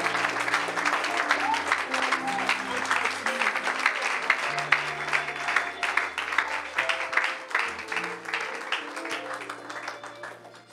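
A church congregation applauds the Lord during a French-language sermon, steady sustained clapping from a crowd with sustained organ or keyboard chords underneath.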